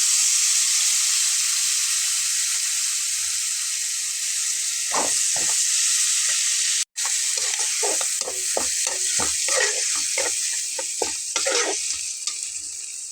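Ginger, garlic, cumin and onion spice paste fries steadily in hot oil, a continuous close sizzle with scattered scraping stirs from the middle onward and a brief cut near the midpoint.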